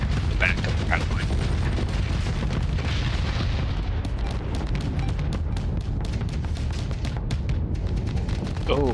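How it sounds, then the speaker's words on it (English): An Annihilator Barrage missile volley roars in a Starsector space battle, a dense, sustained rumble of launches and blasts rolling loud and unbroken for the whole stretch, with crackling bursts scattered on top. "throw that Annihilator Barrage into the back of the battle line"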